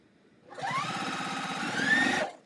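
A sewing machine stitches cotton quilt pieces together in one steady, close whirring run of about two seconds, with no talking.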